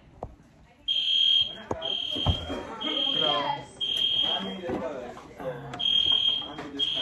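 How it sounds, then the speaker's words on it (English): An indoor fire alarm sounds in a run of loud, steady electronic beeps, each lasting about half a second, while people talk close by over it. "The fire alarm is coming on."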